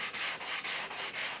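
Sandpaper rubs back and forth over a wooden guitar fretboard in even, rhythmic strokes, about five soft swishes, close and fairly quiet.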